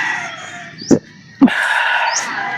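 A rooster crows loudly and close by in one long, drawn-out call, broken by two sharp knocks partway through.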